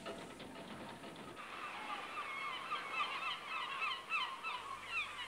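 Gannets call around a trawler hauling in its gear at sea. Their harsh, overlapping honking cries sound moderately distant over a steady low engine and water rumble.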